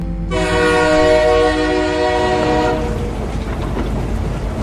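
A morning passenger train bound for a rural village, in a narrated horror story: a loud, sustained horn blast sounds for about two seconds, then gives way to a steady rumbling roll of the moving train.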